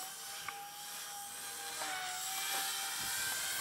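A Blade 130X RC helicopter fitted with weighted blades flies steadily, its high-pitched whine and buzz holding at a moderate distance, with a pitch shift as it maneuvers.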